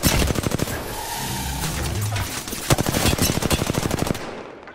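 Rapid automatic gunfire in the Apex Legends video game, loud close bursts of shots hitting the player, running almost continuously with brief gaps.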